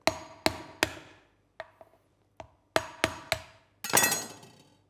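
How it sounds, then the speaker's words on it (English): The back of a heavy knife taps on a lobster claw shell: about ten sharp, close knocks in uneven groups, some louder and some softer, with a final crunchier crack. "I get a heavy base knife. We're going to use the back of it. I give it a couple of taps here."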